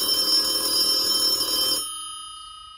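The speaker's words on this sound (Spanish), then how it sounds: "me sobresaltó el clamor inesperado del teléfono" Telephone bell ringing steadily and loudly for nearly two seconds, then cutting off and leaving a fading ring tail; no voices.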